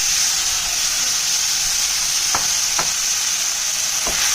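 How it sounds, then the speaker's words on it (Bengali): Marinated soybean chunks sauté in hot oil for soya korma, a loud constant close-up sizzle broken by a few quick spatula scrapes near the end. "এই যে ম্যারিনেশন করে রেখেছিলাম সয়াবিনটা, এটাকে আমি সাঁতলে নেব।"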